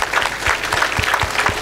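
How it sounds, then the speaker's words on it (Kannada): Loud, steady clapping from a group of children at a school assembly, a dense continuous patter of many hands with no talk over it. "ಈ 3 ಜನರಿಗೆ ನೀವೆಲ್ಲ ಜೋರಾಗಿ ಚಪ್ಪಾಳೆ ತಟ್ಟಬೇಕು"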